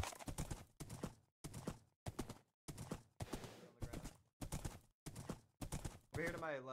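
Horse hooves clip-clopping in the Minecraft game mode Hoplite battle royale, a loud, close run of separate hoof strikes in a steady, galloping rhythm, with a voice coming in at the very end.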